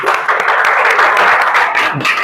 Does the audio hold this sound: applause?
yes